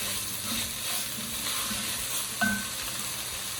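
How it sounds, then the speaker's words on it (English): Seasoned browned ground beef being added to a pot of game day chili, a soft steady sizzle with a few faint knocks and one brief clink. "we're gonna add our seasoned browned ground beef"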